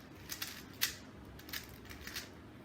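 A 3x3 Rubik's Cube is shuffled by hand, giving a quiet run of soft plastic clicks and rasping turns in uneven bursts, one sharper click standing out near the start.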